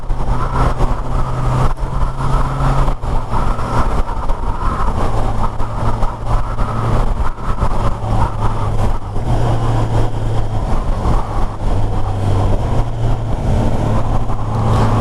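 A 2022 Kawasaki Ninja 1000SX motorcycle is ridden onto a highway, heard as a continuous, loud engine drone with rushing wind and road noise and occasional pitch shifts, with no speech.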